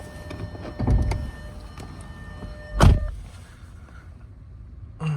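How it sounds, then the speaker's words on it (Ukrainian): Latches click and the hood of a 2010 Audi Q5 2.0 TFSI lifts with a dull thunk at close range, followed by a faint electronic tone and a quiet hum. "відкриваємо капот."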